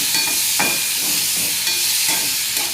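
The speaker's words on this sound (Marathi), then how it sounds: "मी आता हे दोडके टाकून घेते त्याच्यात सगळे। त्यांना मी चांगलं परतून घेते।" Chopped ridge gourd sautéed in a hot pan, a steady bright sizzle with a few scraping stirs of a spatula, close and fairly loud with no voices.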